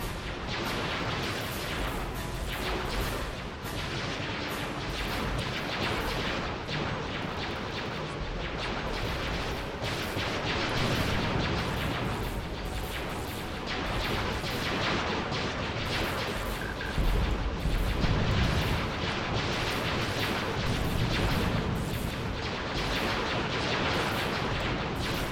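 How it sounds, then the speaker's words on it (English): Weapons fire pounding a Super Star Destroyer in the Sins of a Solar Empire space battle, a dense, unbroken barrage of overlapping blasts and booms at steady high loudness for the whole stretch, without speech. "Concentrate all fire on the Super Star Destroyer."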